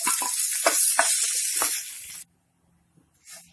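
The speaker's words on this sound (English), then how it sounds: "now I'll fry kishmish and dates" Loud, steady sizzling of raisins and dates frying in hot ghee, with a few scraping stirs, then it cuts off abruptly into near silence before a brief soft hiss.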